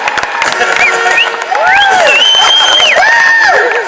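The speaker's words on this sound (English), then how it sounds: "Give Dale and Tom a big round of applause." A crowd at a classic car show at the NEC Birmingham erupts in loud cheering, with rising and falling whistles and shouts over scattered clapping, close and energetic.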